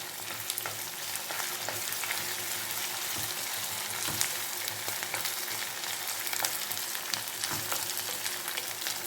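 Ginger and chilli frying in a pan, a steady close sizzle with occasional crackles and stirring scrapes, running unbroken with no voices.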